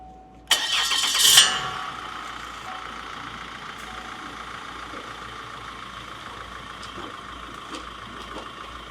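A car engine, just fitted with a new rear main seal, cranks and catches with a sharp burst, then settles into a steady, even idle that runs on without any voices.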